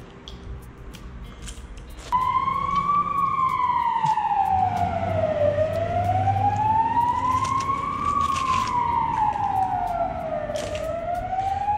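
An ambulance or fire engine siren starts suddenly and wails up and down in slow, repeating sweeps, loud and fairly close, over a low traffic rumble.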